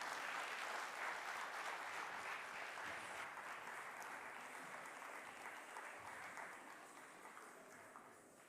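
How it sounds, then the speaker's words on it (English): An audience at a Bharatanatyam classical dance performance applauds, a dense wash of clapping that holds steady and slowly fades toward the end. "Bigger round of applause,"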